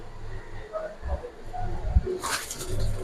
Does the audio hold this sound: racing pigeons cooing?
yes